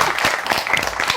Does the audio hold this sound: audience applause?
yes